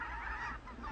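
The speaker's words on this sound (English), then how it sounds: "snow geese and Canadian honkers journey from Wrangel Island in Siberia to California's Central Valley" Snow geese and Canada geese honking together in a brief, loud burst of overlapping calls, with no voices present.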